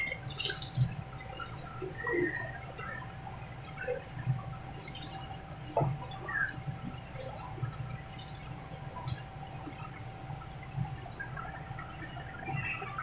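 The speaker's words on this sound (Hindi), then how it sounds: "ये देखें जी पानी उबल गया है" Water bubbling and popping in a pot of rice on the stove, a steady simmer with irregular small blips over a constant low hum.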